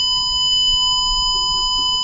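A loudspeaker plays a steady, pure 1000 Hz tone driven at 1 volt in a physics classroom, loud and unbroken, with faint room noise beneath.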